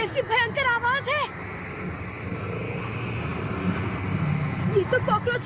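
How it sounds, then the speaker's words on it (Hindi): A cartoon cockroach's walking sound effect plays as a few seconds of rough, scratchy, rumbling noise, with a voice talking just before and just after it. "ये तो कॉकरोच के चलने की आवाज है।"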